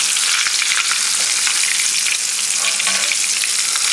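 Creole-style popcorn shrimp fry hard in oil heated past 400 degrees, giving a loud, dense, steady sizzle with constant crackle and no voices.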